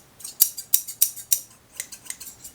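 Scissors snip open and shut repeatedly, about eight crisp metallic clicks in an uneven rhythm, close by and fairly quiet.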